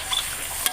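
Rengginang rice crackers fry in plenty of hot oil with a steady hiss and sizzle. A brief stir or clink is heard near the end.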